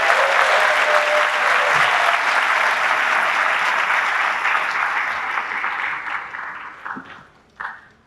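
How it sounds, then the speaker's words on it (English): A graduation audience claps for mentors in a full, sustained round of applause that stays steady and then tapers off toward the end, with a few final claps. "If we could give them a round of applause"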